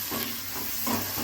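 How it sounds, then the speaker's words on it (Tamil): Dried red chillies fry in hot oil, a steady close sizzle and hiss with a few brief stirring swells, no voices. "காஞ்ச மிளகா வந்து ரொம்ப எண்ணெய் சூடாக இருக்கும்போது போட்டுட்டோம்னா"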